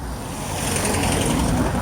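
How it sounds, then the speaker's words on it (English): A van drives past on a road near a roundabout, its engine and tyre noise loud and steady throughout, close by and unaccompanied by talk. "that van didn't sound right"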